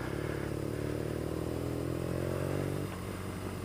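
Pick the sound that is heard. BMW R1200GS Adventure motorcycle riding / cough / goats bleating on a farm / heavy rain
BMW R1200GS Adventure motorcycle riding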